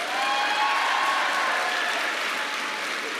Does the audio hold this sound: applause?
yes